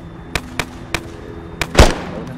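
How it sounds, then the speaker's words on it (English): Video game gunfire: four sharp, close single shots spaced unevenly, then a heavier, longer blast at the end, over a quiet background. "I don't think that's friendly shooting."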